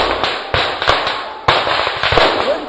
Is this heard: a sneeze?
no